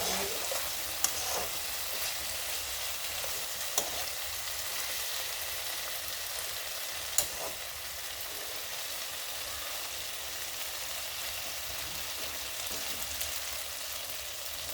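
Small fish patori with eggplant cooking in oil in a covered pan over low to medium flame, giving a steady, even sizzle throughout with a few faint clicks and no voices.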